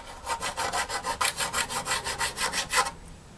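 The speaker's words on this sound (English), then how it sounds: "The first thing I need to do is sharpen the old blade with my diamond file." A diamond file sharpens the edge of an old snow shovel blade in a steady run of about fourteen rasping strokes, loud and close, then stops, with no talking.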